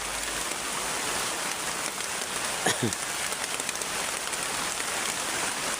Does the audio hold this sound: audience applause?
no